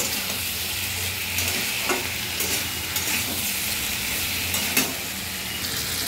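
Ridge gourd and potato curry stirred in a pan, with a constant sizzling hiss and intermittent scraping strokes of the spoon against the pan, close and even, without any voices.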